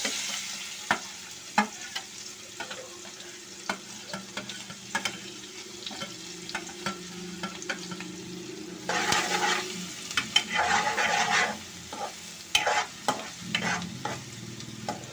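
Sliced onions frying in hot oil in a pan as part of a spicy sev masala dish, a steady close sizzle broken by regular scraping stirs from a spoon, with a louder, busier stretch of stirring near the middle and no voices.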